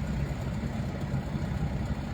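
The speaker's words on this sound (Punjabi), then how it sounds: "ਉਹ ਨੀਲੀ ਸ਼ਰਟ ਵਾਲਾ ਮੁੰਡਾ ਖੜ ਗਿਆ ਮੋਟਰਸਾਈਕਲ ਲੈ ਕੇ" A motorcycle engine idling at a roadside near a government girls' school, a continuous low throbbing rumble held steady at moderate level with no talk over it.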